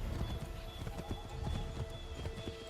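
Hooves clip-clop in a steady galloping rhythm as a horse runs in Assassin's Creed III, with an occasional whinny, close and continuous under game ambience.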